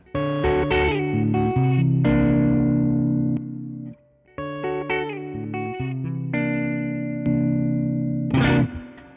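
Electric guitar played through the ODR side of a dual overdrive pedal at low gain, ringing chords and single notes with a warm, slightly driven tone, sustained and fairly loud, with a short gap midway and a brighter strum at the end.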